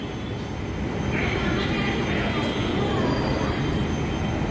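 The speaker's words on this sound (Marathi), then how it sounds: "मेट्रो इसको बोलते मेट्रो" A metro train in Hyderabad runs past with a loud, continuous roar and rumble of wheels on the rails, with a faint high squeal rising briefly over the noise.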